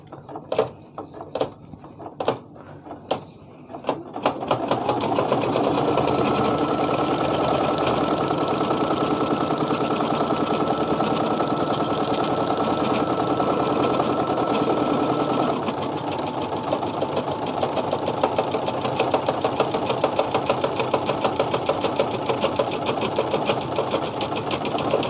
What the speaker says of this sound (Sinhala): දැන් ආපහු ෆ්‍රේම් එක මම මැෂින් එක ඇතුළට ඇටච් කරගන්නවා. දැන් මම ඊළඟ කොටස මහනවා.